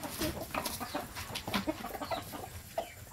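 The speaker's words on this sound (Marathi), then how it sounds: "कोंबडी तर आताच जाऊन बसली खायला बादलीत." A hen clucks in short, repeated bursts close by, with other fowl calling faintly around it in a farmyard setting; no talk.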